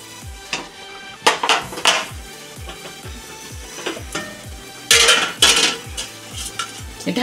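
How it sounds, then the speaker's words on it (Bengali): A spoon stirs garam masala into basanti pulao in a metal pot, loud scraping strokes and clinks repeating at a steady rhythm, with bursts of rustling grains between them and no talking. "এবার আমি ভালো করে নাড়া দিয়ে ঢেকে দেব।"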